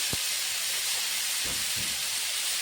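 Whole garlic and chopped onion sizzle in hot oil in a pan, a steady close hiss throughout with a few soft low knocks.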